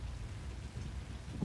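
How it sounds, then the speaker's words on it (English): Hail pelting down in the Roblox game Twisted, a dense steady hiss of falling ice with low rumbling underneath, alone and moderately loud throughout. "I'm dying to the hail."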